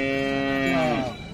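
A cow at the Kashti cattle market in Maharashtra lets out a single loud, drawn-out moo close by, tapering off at the end.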